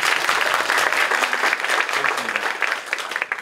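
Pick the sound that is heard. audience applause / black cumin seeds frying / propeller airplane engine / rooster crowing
audience applause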